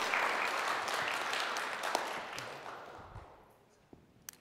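Applause from a stage-show audience for a child volunteer, fairly quiet and distant, starting full and gradually dying away, with a few last isolated claps at the end.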